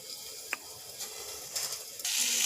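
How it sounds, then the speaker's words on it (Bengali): Potatoes fry in hot oil with a steady, hissing sizzle, punctuated by a few light clicks and scrapes of utensils, close and faint, the sizzle swelling louder near the end. "এই যে আলুগুলো ভেজে নিচ্ছি।"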